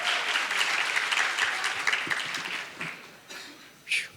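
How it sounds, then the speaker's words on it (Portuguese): An audience at a teachers' gathering claps for Geise, a dense burst of applause that thins out and fades over a few seconds, leaving scattered claps and a last brief flurry. "Aplausos para o Geise."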